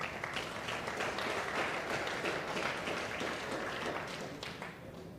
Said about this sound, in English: Join me in a round of applause